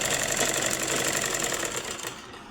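A sewing machine runs steadily, stitching a half-inch seam to join the shoulders of a size 36 blouse, a dense continuous whirr that starts to fade near the end.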